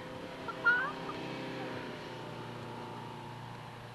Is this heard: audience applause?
no